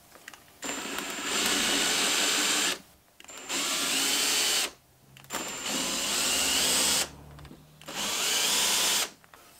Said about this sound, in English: what I'm going to do is just give them a bit of a countersink